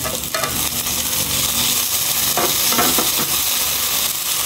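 Garlic, onion, tomato and shrimp paste sautéing in a pan: a loud, continuous close sizzle with stirring scrapes throughout and no voices.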